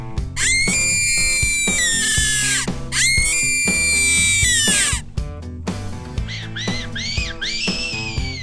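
A fox-calling whistle is blown in the hills. It gives loud, shrill, wavering squeals in repeated bursts that rise and then fall, close to the listener, with no talking.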